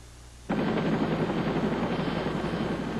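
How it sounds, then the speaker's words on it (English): A helicopter arrives at a roller coaster accident scene to carry an injured rider to a trauma center. Its heavy rotor roar starts suddenly after a quiet moment and stays loud and steady throughout. "The helicopter came in."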